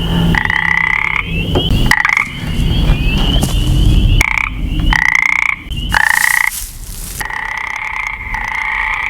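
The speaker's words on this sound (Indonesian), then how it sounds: "Mendengar suara kodok" Frogs croak loudly and close outside a cabin in the middle of a forest, repeated throaty bursts in uneven runs separated by short gaps, over a rough, rumbling background.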